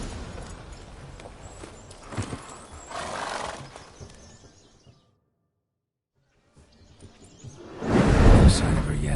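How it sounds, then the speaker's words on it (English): Roach, a horse in the video game The Witcher 3, gallops with steady hoofbeats and whinnies, with voices under it. The sound drops to near silence midway, then returns with a loud burst of movement. "Not so fast, Roach"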